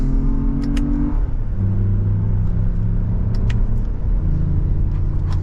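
A Lexus RX500h F Sport hybrid SUV speeds up in sport mode in second gear. A loud, steady engine drone rises through a gear change, with road rumble underneath and no speech.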